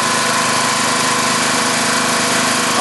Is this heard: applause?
no